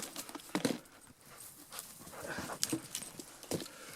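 A dog pants and moves about in snow at a winter camp, with soft breathy huffs and scattered rustling footfalls, fairly faint and close, with no talking.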